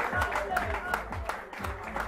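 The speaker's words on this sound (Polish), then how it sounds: "szczególne wielkie brawa dla Walka" A crowd at a commemorative medal ceremony in Sweden claps in a dense, moderately loud round of applause for a recipient, while someone speaks over it throughout.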